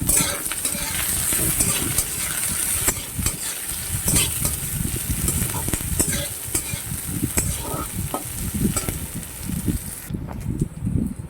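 Onions and green chillies fry in oil with a dense, loud, close sizzle. Repeated spatula scrapes and stirring strokes run through it, and the frying cuts off near the end.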